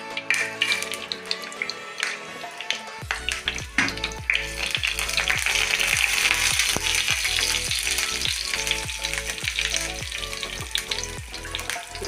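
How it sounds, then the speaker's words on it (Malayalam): Fenugreek seeds frying in a couple of spoons of hot oil for a curry leaf pickle: quiet at first, then a loud, steady sizzle sets in, broken by regular stirring scrapes. "ഒരു 2 സ്പൂൺ എണ്ണ വീത്തിൻ്റെ അതിൽ കുറച്ച് ഉലുവ,"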